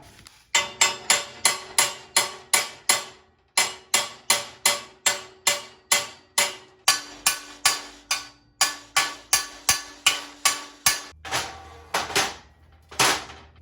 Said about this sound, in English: you can just tap it with a hammer to get it to where you need it to be